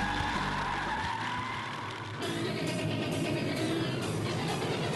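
Dirt track race cars roar off together at the green flag of a USMTS modified race, a loud continuous wall of engine noise with tire skidding that swells again after a brief dip.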